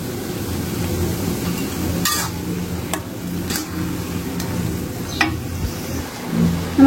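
Fish cooking with water in a pan for a Bengali chorchori, heard as a steady close simmering hiss with a few sharp metallic clicks and scrapes from the pan along the way.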